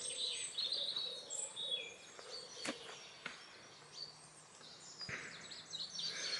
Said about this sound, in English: So it's good to come out and listen to the birds.